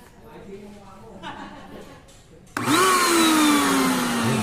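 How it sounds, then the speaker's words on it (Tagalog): Vacuum oil extractor for a Toyota Innova oil change switches on abruptly partway through, a loud steady whine with a rising pitch that holds close and strong after quieter workshop noise. "Pindutin ko ngayon itong vacuum."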